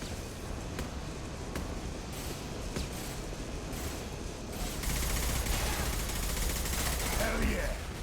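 Gunfire rattles through a Mass Effect Legendary Edition firefight, with scattered sharp shots and bursts followed by a denser, louder barrage as a concussive shot goes off, while a player talks over the action.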